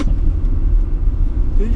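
A compact SUV engine, one of a Honda BR-V, Toyota Veloz or Mitsubishi Xpander, hums at around 2,500 rpm while driving over rough, rocky ground, a loud steady low rumble heard from inside the cabin.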